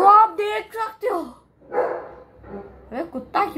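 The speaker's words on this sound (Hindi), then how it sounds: "अरे कुत्ता क्यों भौंक रहा भाई?" A dog barks outside in a string of short, sharp, uneven bursts separated by brief quiet gaps, fairly loud and close.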